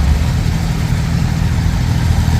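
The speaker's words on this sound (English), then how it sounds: "That's a nice basic, what I would regard as starter tractor, just going past the commentary box down a little grey Ferguson" A little grey Ferguson tractor at a steam show, its low, steady engine rumble close and continuous as it drives past the commentary box.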